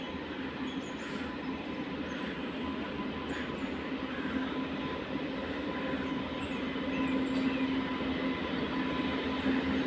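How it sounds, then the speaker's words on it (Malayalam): The Netravati Express, hauled by a WP7 locomotive, pulls into Kayamkulam Junction, a continuous moderate rumble of rolling coaches with faint wheel squeal that builds slightly toward the end, without speech. "നമ്മുടെ നേത്രാവതി എക്സ്പ്രസ് കായംകുളം റെയിൽവേ സ്റ്റേഷനിലോട്ട് വരികയാണ്."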